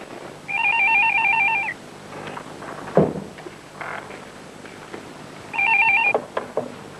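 An old-style telephone rings in two warbling electronic bursts separated by a pause, fairly loud and close, with faint room noise and a thud between rings.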